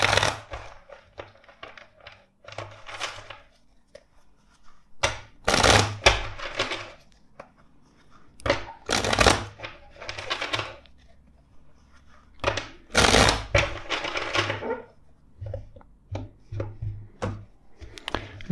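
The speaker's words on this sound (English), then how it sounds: "Let's shuffle the deck four times for you." A tarot deck shuffled in several bursts, with crisp riffling and slapping on a surface, separated by brief pauses; close and fairly loud, no talking.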